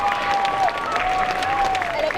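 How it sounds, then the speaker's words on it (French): An audience at a cosplay show during a geek convention in Clermont claps steadily in a dense burst, with a voice speaking over the applause. "On l'applaudit encore."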